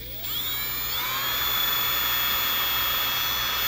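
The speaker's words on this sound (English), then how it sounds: "And just drill the hole." A power drill whines steadily at high pitch while drilling a hole in foam, starting abruptly and holding a continuous, close buzzing tone with a slight rise after the first second.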